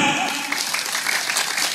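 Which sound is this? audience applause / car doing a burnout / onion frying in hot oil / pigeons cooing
audience applause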